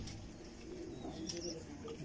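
Old pigeons kept by a breeder of rare fancy breeds coo softly and faintly in a loft, a low murmuring that stays quiet and distant throughout with no voices.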